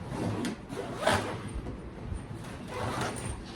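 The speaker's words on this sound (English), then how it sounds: "I close the zip." The big, thick, rugged zip on a DSC split cricket players' kitbag is pulled shut in a few quick rasping strokes, with pauses and soft handling rustles between them, close and fairly quiet.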